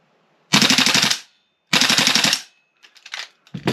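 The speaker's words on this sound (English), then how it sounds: "If we have a quick look at something like the completely standard mag, full auto fire" Two long bursts of full-auto fire from a Tokyo Marui MWS airsoft rifle with a standard magazine, loud and close, each about a second of rapid shots, followed by a few scattered shorter shots.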